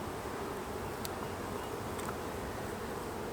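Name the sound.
honeybees buzzing while being moved into a nuc box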